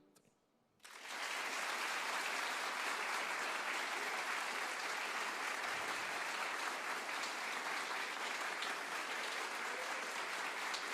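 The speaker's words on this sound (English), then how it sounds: "on 3, all you do is applaud" A studio audience at the WoodSongs Old Time Radio Hour breaks into applause on cue after a short quiet moment, then keeps up dense, even clapping at steady volume to the end.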